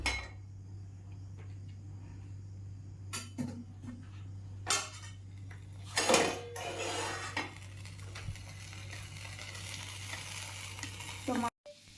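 Onions sautéing in a pan for a fish masala, a low steady sizzle broken by several loud clinks and scrapes of a metal spoon against the pan, with a constant hum beneath.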